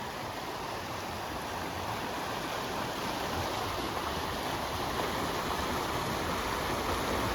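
The South Fork of the Palouse River rushes heavily with snowmelt near flood stage, a loud, continuous roar of water that stays constant throughout with no talking.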